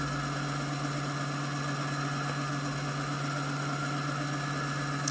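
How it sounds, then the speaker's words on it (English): A Britannia T190/120 sewing machine winds a bobbin at a raised speed setting, giving a steady, unbroken motor whir and hum that holds at an even level throughout, with no talking. "you can increase the speed here on the speed limiter, and it will go faster"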